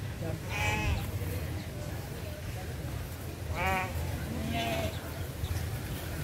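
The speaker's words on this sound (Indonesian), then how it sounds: "Oh teman-teman ada domba juga loh" Sheep bleat at a strawberry farm petting area in Puncak, Bogor, with several distinct wavering bleats at moderate distance over steady background noise and people chatting.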